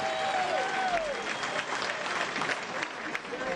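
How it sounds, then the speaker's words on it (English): An audience at a live country music show applauds the band, a fairly quiet but continuous crowd clapping with a few sharper claps and faint whistles or cheers mixed in. "Give them another round of applause."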